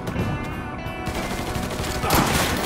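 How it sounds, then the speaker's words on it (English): Rapid bursts of automatic gunfire in the Mafia 3 video game, loud and continuous, with overlapping shots and a heavier barrage near the end. "Fucker won't stop shooting."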